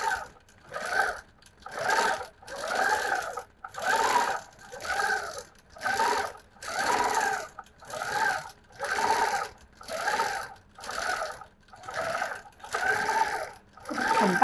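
A sewing machine free-motion quilts loops in a rhythmic series of short whirring bursts, roughly one per second, each rising and falling as the fabric is guided, close and fairly loud with no talking.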